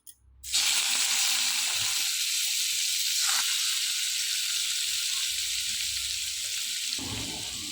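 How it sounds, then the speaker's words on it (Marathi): Cubes of paneer hit hot oil and burst into a loud, steady sizzle that starts abruptly and keeps up unbroken, with faint stirring underneath, in a home kitchen cooking shahi kaju paneer masala. "आता त्याच तेलामध्ये आपल्याला पनीर तळून घ्यायचं आहे"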